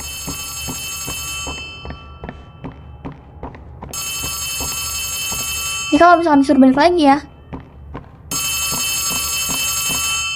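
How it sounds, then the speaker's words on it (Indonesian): A telephone rings inside the horror video game Poppy Playtime Chapter 3, with repeated long electronic ringing bursts and pauses between them. A player talks over the gaps, and there is a brief loud outburst in the middle. "Ada telepon."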